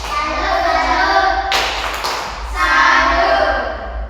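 A group of children claps a 'tepuk salut' chant in an Indonesian classroom, a few sharp hand claps and thumps close by, with a teacher's voice speaking around them.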